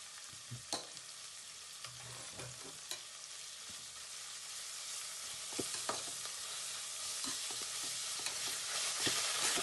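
Ginger garlic paste fries in hot oil with a steady crackling sizzle, scattered pops and stirring scrapes from a spoon breaking through, the hiss swelling slightly toward the end.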